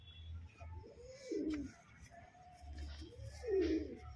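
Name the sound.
pigeons cooing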